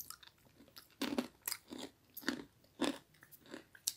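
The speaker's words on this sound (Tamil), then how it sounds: "பாருங்கள் நல்லா கடிக்கும் போதே நல்லா கிறிஸ்பியாக இருக்குது" A crispy homemade sweet of peanuts and egg is bitten and chewed up close, giving a series of sharp, dry crunches at an uneven rhythm with brief pauses between bites.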